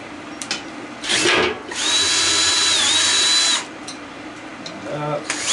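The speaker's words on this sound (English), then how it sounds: "Okay, we'll get the drill out." Power drill boring into a big sealed refrigeration unit, a loud whining spin that starts, pauses briefly and runs steadily for about two seconds before stopping, with short tool bursts around it.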